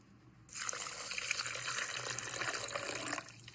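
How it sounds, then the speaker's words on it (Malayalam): Water pours steadily into a glass holding sugar and ice cubes for homemade lime juice, a continuous soft splashing trickle lasting about three seconds before stopping. "ഇനി വെള്ളം ഒഴിക്കാം"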